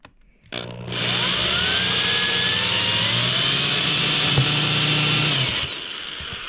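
A power drill whines steadily and loudly as it bores through plastic into the fiberglass of a Ranger boat's bow, starting up abruptly and running for several seconds before easing off.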